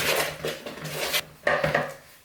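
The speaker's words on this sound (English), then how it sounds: "probably just spoon it onto the tray" Soft coffee cookie dough spooned onto a baking tray, with repeated scraping and tapping of a metal spoon against the tray and bowl, close and fairly loud, in short bursts with brief pauses between.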